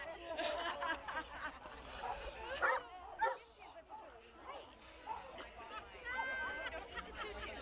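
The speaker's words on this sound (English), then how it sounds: "There's a dog too." A dog barks and yips at a crowded holiday evening event, with several people chatting over and around it.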